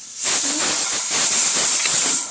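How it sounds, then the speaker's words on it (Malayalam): Steam hisses steadily from a pressure cooker whistle while ash gourd cooks at home, a loud, continuous high-pitched rush lasting the whole moment with no voices. "കുക്കറിൻ്റെ വിസിൽ വരുന്ന കേൾക്കുന്നുണ്ട്."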